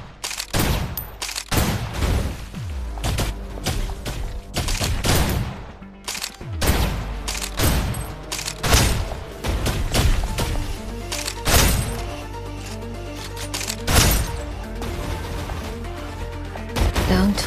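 Rapid bursts of gunfire from the Snowbreak: Containment Zone video game crack repeatedly and loudly across the whole stretch, volleys clustered in sharp salvos with brief gaps between them.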